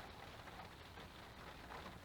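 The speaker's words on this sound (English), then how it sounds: "I don't know if you can still hear it, but it's still lashing rain" Heavy lashing rain pours outside, a dense, steady hiss of drops on surfaces, faint and continuous, with no one talking.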